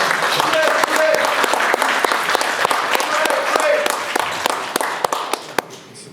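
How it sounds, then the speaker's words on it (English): An audience at a community forum applauds a speaker being introduced, sustained clapping that thins toward the end into a few scattered claps, with some voices mixed in. "Please give him a round of applause."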